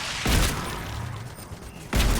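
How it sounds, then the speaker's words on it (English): Two heavy shotgun blasts ring out in the video game Mass Effect 3, one near the start and one near the end, with a low rumbling game ambience between them. "Let's try some shotgun."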